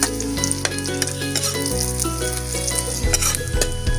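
Garlic and onion sautéing in a hot pan for a liver-and-egg dish, a steady loud sizzle and frying crackle throughout with occasional stirring scrapes, no voices.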